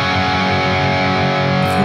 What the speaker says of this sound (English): let's say you're fully distorted.